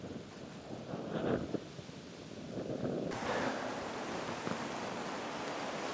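Fairly strong evening wind blows across an outdoor hunting spot by a food plot, a steady rushing roar with gusty swells and buffeting on the microphone, no voices.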